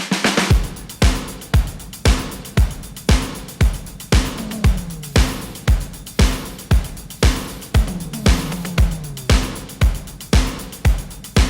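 A loud, steady drum groove with a punchy kick on every beat and busy hi-hats and percussion layered over it, no voices.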